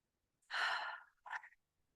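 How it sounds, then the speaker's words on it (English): A single slow, audible breath, drawn in and released by one person in a quiet room, followed by a shorter second exhale, close and soft with silence around it. "Let's take a deep breath in."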